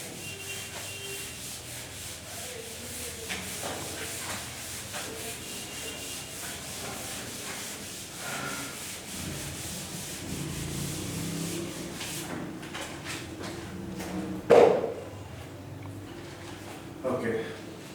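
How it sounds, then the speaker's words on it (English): A classroom board being rubbed clean, a steady scratchy rubbing that continues for many seconds, with a sharp knock near the end and a person speaking at times. "So I'll rub now."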